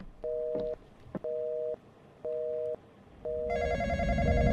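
Electronic telephone ring from the Roblox horror game Intruder, a steady two-tone warble sounding in four evenly spaced bursts, loud and close, before a brighter layered tone swells in at the end.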